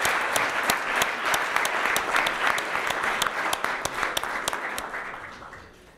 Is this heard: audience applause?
yes